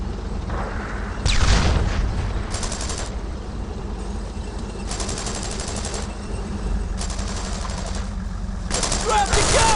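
Machine gun suppressing fire and distant booms in Brothers in Arms: Road to Hill 30, a World War II battle: bursts of gunfire with a low, steady battle rumble underneath, and voices shouting amid the noise.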